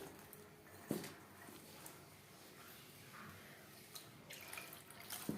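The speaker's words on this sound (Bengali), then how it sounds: "কারি যদি ঘন হয়ে যায়, এইভাবে জলে অ্যাড করতে পারেন" Water is poured into a thick kadhi curry, producing faint, soft trickling and a few light drips, quiet and close with no talk over it.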